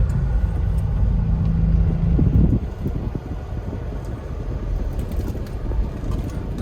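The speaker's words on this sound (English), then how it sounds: "It's got a bit of a traffic jam as all the kids are getting out of school" Cars idle and creep in a traffic jam as kids leave school in Limbang, Malaysia, a loud steady engine rumble heard close by, with one vehicle's low drone fading out partway through and wind buffeting the microphone.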